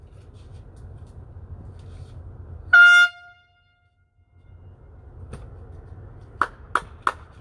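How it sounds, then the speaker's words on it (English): One loud, blaring car horn honk sounds for about half a second, then silence, followed later by a few sharp clicks and taps. "honk your horns"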